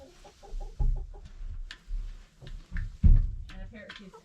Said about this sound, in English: Chickens like privacy when they lay.